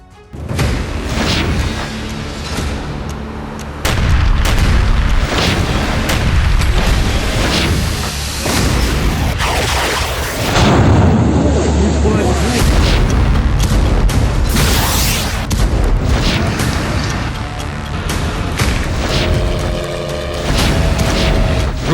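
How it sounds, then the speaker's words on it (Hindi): Repeated explosions and roaring fire on Russian soil in war news footage, loud booms and bursts recurring over a continuous rumbling blaze. "रूस की जमीन पर फिर धमाके, फिर वैसी ही आग।"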